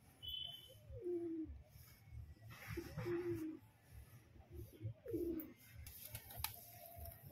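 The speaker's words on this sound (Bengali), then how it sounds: "মাদি পায়রা খুবই অ্যাগ্রেসিভ, ছটফটে পায়রা" Adult pigeons of a madrasi pair cooing while being held and inspected, including a restless female; three soft, rolling coos come at roughly two-second intervals, close by, over low handling rustle.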